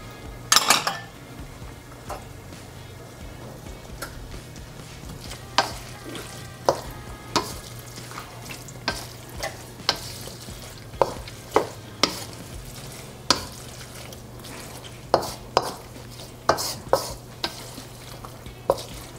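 Onion and green chili frying in a pan for tofu sisig, a constant low sizzle under repeated sharp scrapes and clinks of a utensil stirring against the pan, irregular and close.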